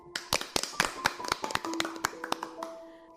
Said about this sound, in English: I think we need to applaud him.